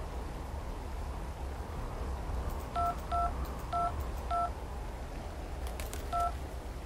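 Touch-tone phone keypad dialing in the video game Syberia 2: a series of crisp, distinct two-tone beeps, four in quick succession, a pause, then one more, over a low steady background hum.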